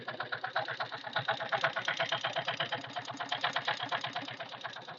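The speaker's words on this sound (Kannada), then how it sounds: "ಇಂಜಿನ್ನು ಬೇರೆ ಥರ ಸೌಂಡ್ ಬರ್ತಾಯಿದೆ ನೋಡಿ" A car engine runs with an unusual, rapid rhythmic knocking or ticking pulse, with piston noise audible from inside and steady, close and moderately loud throughout, accompanied by coolant and oil consumption.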